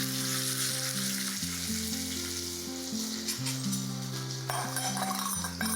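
Finely chopped onion and a spoonful of cumin hit hot oil with a loud, continuous crackling sizzle that persists throughout, over steady background music.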